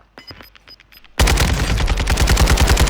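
Quiet clicks and rustles, then a sudden loud burst of rapid, booming shotgun fire in the video game Warzone 2.0 that keeps pounding steadily to the end.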